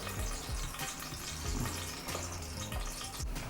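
Whole spices and a bay leaf sizzle loudly in a spoonful of hot ghee in a pressure cooker, a dense, continuous crackle with low knocks running underneath.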